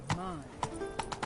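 Hooves of Roach, a horse in Witcher 3, clop a few times in quick succession, close and moderately loud, overlapping a voice.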